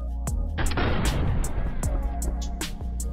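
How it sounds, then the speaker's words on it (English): Sharp gunshots crack out repeatedly over about three seconds, loud and close, with booming blasts and a dense rumble between them, played back through headphones for a latency test. "Here's the gunfire."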